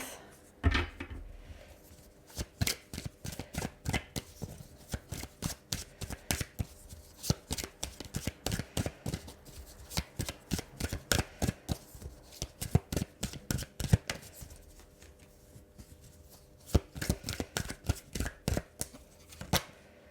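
A deck of cards shuffled by hand in quick repeated riffles and taps, a near, crisp run of rapid flutters broken by short pauses, with no talk over it.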